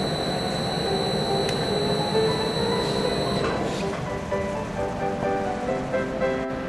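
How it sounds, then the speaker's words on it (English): A Dynamic 35-70 inch series oil country lathe spindle runs with a steady mechanical drone and faint whining tones, continuous and fairly loud throughout. "Turn on spindle on carriage control panel."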